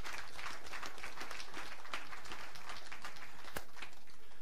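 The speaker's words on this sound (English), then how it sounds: "Chakla Atakal, applause!" Spectators at a women's 10m air rifle standing SH1 para shooting final in Chateauroux clap in a faint, scattered patter of many hands, fairly distant and continuous.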